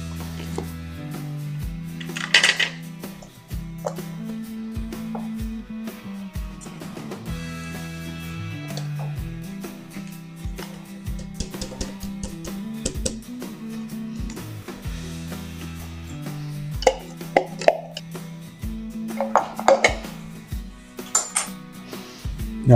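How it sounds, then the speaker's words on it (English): Keto biscuit batter being stirred in a bowl, with a steady run of clinking and scraping of a utensil against the bowl, close and fairly loud, going on without talk. "Now we gotta stir it up and we'll have a really nice batter."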